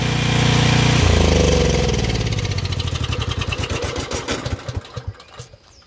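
Propane-converted generator engine with a bad carburetor, running loud and steady, then shut off by cutting the gas, its rumble breaking into slowing, uneven chugs that fade out over the last few seconds.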